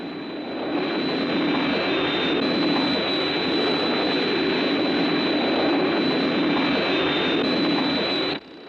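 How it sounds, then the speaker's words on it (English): A loud, steady aircraft engine roar with a high, sustained whine drones overhead for about eight seconds, then cuts off abruptly. "Hey, I hear an aircraft."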